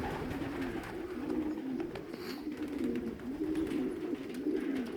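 Pigeons coo in soft, repeated rolling phrases at a steady rhythm, fairly close, with faint outdoor background.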